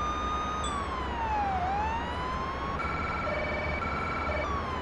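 Police car siren in the Police Simulator: Patrol Officers video game, a continuous wailing tone that sweeps down and up, then switches to a faster yelp pattern, loud and alone with engine rumble beneath.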